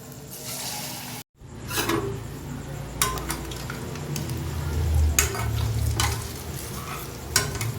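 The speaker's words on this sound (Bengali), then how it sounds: "একে একে বড়াগুলোকে আমি ভেজে নিচ্ছি।" Palm fruit fritters fry in hot white oil in a wok over a low flame. A steady close sizzle runs through, with a brief drop-out near the start and repeated clinks and scrapes of a utensil against the wok.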